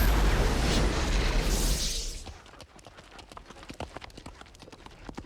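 A white horse gallops in quick, clip-clopping hoofbeats, close and fairly loud, coming in after a heavy rushing burst of noise that fills the first two seconds.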